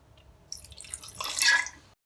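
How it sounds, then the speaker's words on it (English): Chicken stock and a splash of red wine poured into a pasta sauce in a pan, heard as soft liquid trickling and dripping that swells briefly and then stops, close and fairly quiet with no talking. "I also like to add a little bit of chicken stock and a splash of red wine."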